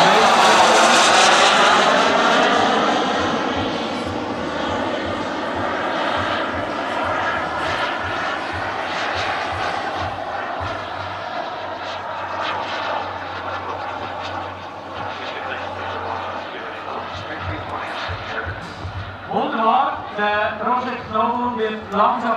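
A turbine-powered R/C scale model of a Lockheed F-104S Starfighter coming in to land, its loud jet roar steady and gradually easing, with a commentator talking over it throughout.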